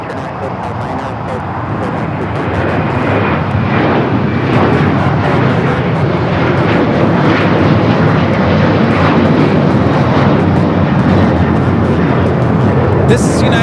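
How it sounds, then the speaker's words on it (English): A United Airlines Boeing 737-900ER departs LAX, the jet roar swelling over the first few seconds and then holding loud and sustained, a dense engine rush with no talk. "This is United Airlines 689 taking off to Washington Dulles on the 737-900ER."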